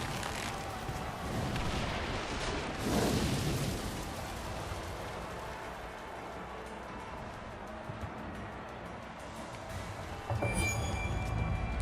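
Booming cannon fire in Assassin's Creed Chronicles: China, with rumbling blasts over a constant noisy battle din, one heavy burst early on and another near the end.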